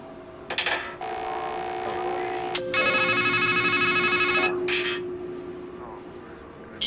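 A telephone ringing in the video game Strangeland: electronic ring bursts and tones in several separate blocks, loud and close, over a low hum.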